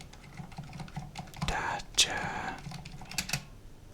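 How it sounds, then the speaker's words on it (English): Mechanical computer keyboard typed on during relaxed Minecraft gameplay, soft clustered key clicks scattered through the clip with a sharper burst near the middle, close and moderately quiet with faint background noise. "I hope you'll hear my mechanical keyboard a little bit more."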